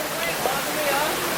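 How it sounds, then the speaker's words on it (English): A waterfall at the end of a river climb gives a steady, loud broadband rush of falling water that fills the whole clip without pause. "That's where the waterfall is, girl."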